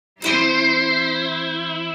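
A single bright plucked chord on a Harmony H35 electric mandolin played through effects rings out loud and sustained, thickened by a shimmering chorus-like effect.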